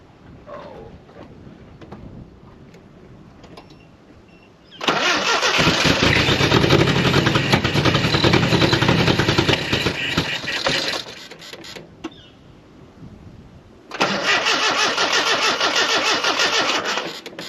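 A 1985 Nissan 720 4x4 ST pickup engine cranks and catches after a long sit and a dousing of lubricant, roaring loudly for several seconds, dropping away, then firing again, close by.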